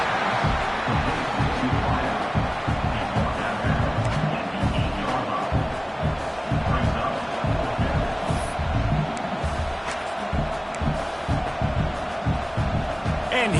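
Huge stadium crowd at Neyland Stadium roaring and cheering during a night college football game as the field goal unit comes out, a dense, sustained wall of noise throughout with a commentator talking over it.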